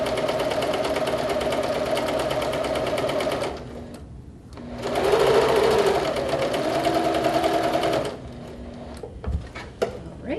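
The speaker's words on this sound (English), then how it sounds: "Okay, I'm just going to sew that down." A sewing machine runs in two steady bursts while stitching down a fabric seam, its rapid even whirr loud and close, broken by a short pause, with a few soft clicks at the end.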